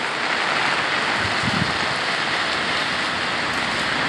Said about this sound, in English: As you can see, it is a rainy, stormy day today.